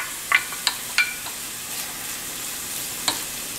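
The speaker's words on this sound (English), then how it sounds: "Now we'll just let the vegetables saute" Vegetables sauté in a hot pan with a steady, close sizzle throughout, broken by a few sharp clicks of a utensil against the pan.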